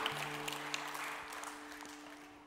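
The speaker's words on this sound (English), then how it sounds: "Clap for that." A church audience claps together, a broad rush of applause that slowly fades, with a sustained low keyboard tone underneath.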